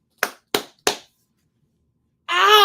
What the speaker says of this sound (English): You do your clappy claps.